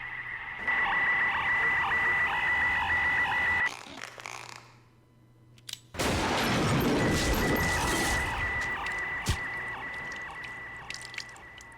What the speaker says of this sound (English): So Kamui just got shot 1-hit KO by like all 10 sniper shots.